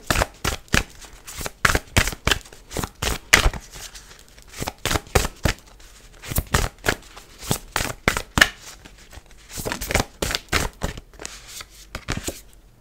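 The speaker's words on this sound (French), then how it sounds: "Donc, on prend une dernière carte et puis on arrête là." Tarot cards being drawn and shuffled during a reading: a long run of crisp, rapid card riffles and slaps, close and fairly loud, in quick irregular bursts with brief pauses and no talking.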